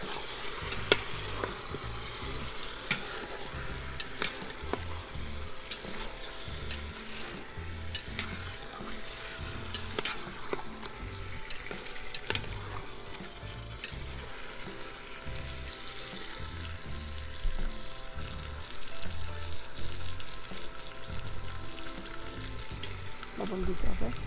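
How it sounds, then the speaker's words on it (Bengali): Chicken fries in a pan with a continuous close sizzle, broken by frequent scraping and clattering strokes of a spoon as it is stirred, with faint background noise throughout. "আমার একবার নেড়ে নিই কী অবস্থা আমার এটা"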